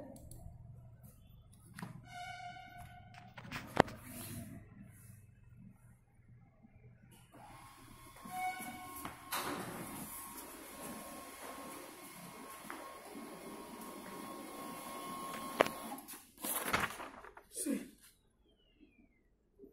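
A Canon MF244dw network printer whirs into action, with mechanical clicks and beeps followed by a sustained humming feed and rolling motor noise, ending in a few clunks.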